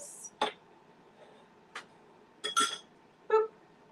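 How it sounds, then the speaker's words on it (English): Mercury glass candlesticks clink and knock as they are picked up and handled, a handful of sharp, bright taps spread irregularly over a few seconds, close by in a quiet room. "mercury glass candlesticks."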